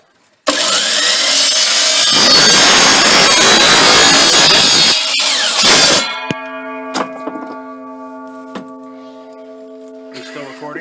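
A saw cuts through a 10-foot length of 1.5 inch PVC pipe to make 3-inch sections, with a loud, steady rasping stroke lasting several seconds that then stops, followed by light clinks and handling noises as the cut piece is set down.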